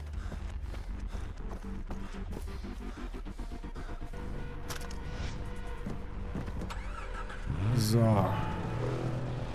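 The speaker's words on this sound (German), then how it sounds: "Wir nehmen das Fahrzeug." A vehicle in the video game Far Cry 3 drives along with a steady engine drone and clattering movement, swelling louder toward the end, while someone speaks briefly over it.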